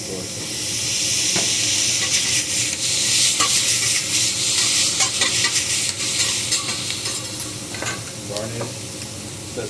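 Sauce poured into a hot pan sizzles and hisses loudly and steadily, with crackling pops and scraping stirring strokes throughout, no talking heard.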